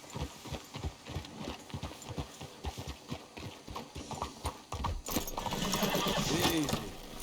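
Horses in the Red Dead Redemption 2 video game, steady clip-clopping hooves at close range, then a loud whinny and snorting near the end over a wash of ambient noise.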